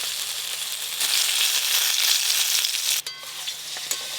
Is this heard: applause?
no